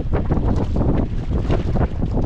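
Strong wind roars and buffets the microphone in a loud, continuous rush with gusty fluctuations, and no speech.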